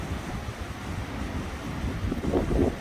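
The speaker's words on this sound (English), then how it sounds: "The wind is whipping every now and then too." Wind blowing over storm-flooded water on the morning after Hurricane Ian, a loud continuous gusty roar with heavy buffeting on the microphone and rushing water beneath, growing stronger toward the end.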